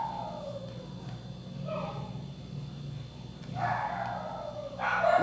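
Dogs barking and yelping at a distance under a steady background hum, with louder bursts of barking near the middle and again at the end.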